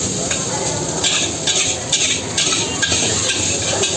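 Food is stirred in a pan in a home kitchen in India, giving close, loud scraping and sizzling with repeated stirring strokes about every half second and no talk.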